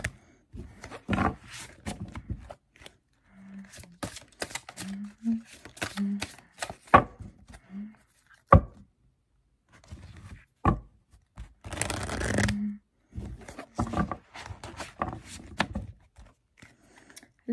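A deck of tarot cards being shuffled by hand, heard as scattered crisp riffling and slapping bursts with one longer dense flurry, close and moderately loud, with a voice murmuring at times in between.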